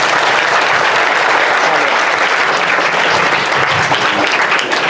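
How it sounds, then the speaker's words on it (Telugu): An audience at a college Ganesh immersion celebration breaks into loud, sustained applause, a dense and even wash of clapping that carries on for several seconds without letting up. "కాబట్టి ఒకసారి సీనన్నకి అందరూ క్లాప్స్ కొట్టండి."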